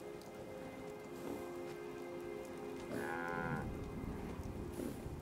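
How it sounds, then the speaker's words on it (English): A cow moos from mid-distance in Fallout 4, one drawn-out low call rising over a steady hiss of rain and a faint ambient hum, with a softer second call near the end. "You have a weird looking cow?"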